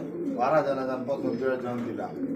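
Sky-blue Rasgolla pigeons at a farm coo nearby in several low, throbbing phrases, with voices talking over them.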